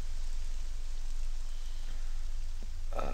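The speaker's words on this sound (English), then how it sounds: "And now it's raining" Steady rain hisses across the landscape in the video game Morrowind, a constant even wash of patter at moderate level, with a brief brighter clatter near the end and no voices.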